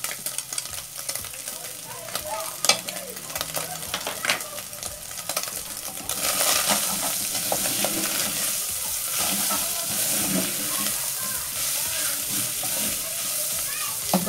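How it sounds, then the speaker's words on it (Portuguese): Crushed garlic frying in a pan while making beef stroganoff, a steady sizzle with stirring scrapes that grows louder and denser about halfway through, close up with no talking. "Agora eu vou colocar o alho. Aqui eu tenho 3 dentes de alho triturado."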